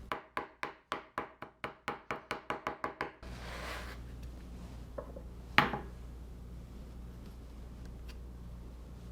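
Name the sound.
knife chopping capers for tartar sauce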